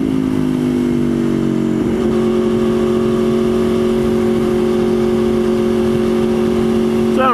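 An Aprilia Tuono V4R motorcycle engine revs up at low throttle while cruising, with a steady tonal hum that climbs in pitch after about two seconds and then holds, heard against wind noise.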